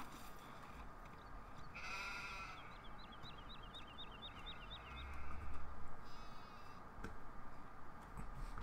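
Sheep bleat in a Farming Simulator 17 farm scene, a few faint calls standing out over a quiet, steady ambient background with no talking.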